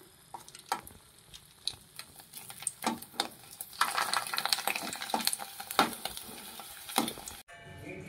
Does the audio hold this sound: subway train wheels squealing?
no